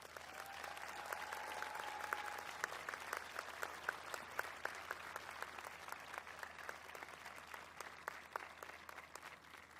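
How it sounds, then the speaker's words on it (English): A convocation audience applauds the staff, a steady and fairly distant wash of many hands clapping that holds for about ten seconds with no talk over it. "I invite you now to join me in applause to show our gratitude for those staff."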